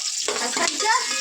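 Long-cut onions and curry leaves hit hot oil in a pan for egg rice, a close hissing sizzle with stirring scrapes, brief and loud.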